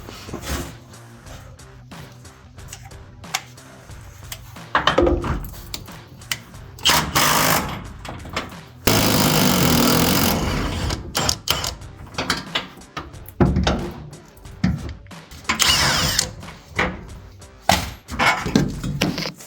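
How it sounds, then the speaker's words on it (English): Ratchet turning the rear shock nut on a RAM 1500 truck, producing close, loud bursts of rapid mechanical clicking and whirring. The bursts come in uneven stretches with short pauses between them, and one long continuous run happens midway. "I don't want to cut my wrench in half, so I'm using a ratchet."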